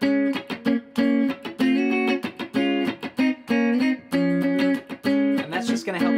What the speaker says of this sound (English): You want to start to add in some sort of 16th note chicken scratch, like